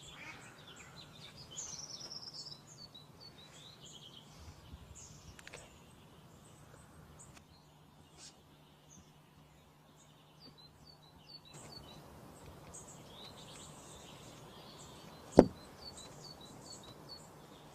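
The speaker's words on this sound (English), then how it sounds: "This is a blackcap." Blackcap, a small songbird, calling outdoors in a recording full of bird chirps and insect buzz; short high chirps come intermittently over a low steady hum, faint to moderate, with one sharp close knock near the end.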